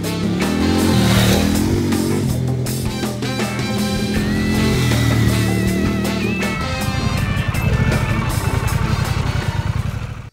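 Engine of a Harley-Davidson Pan America 1250 Special adventure motorcycle while riding, a loud continuous drone that rises and shifts pitch through gear changes, with wind rush and rattle from the ride.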